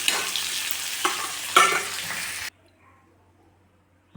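Broiler chicken meat fries in a pan with a loud, crackling sizzle and sharp stirring scrapes for about two and a half seconds, then the sound cuts off abruptly to near silence.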